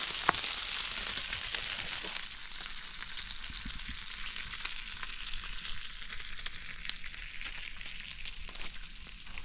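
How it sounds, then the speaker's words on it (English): Steady crackling sizzle of two strips of bacon frying in a pan at an RV campsite on a wet, rainy morning, a dense hiss with scattered pops, continuous and close for the whole stretch. "only 2 pieces of bacon this morning"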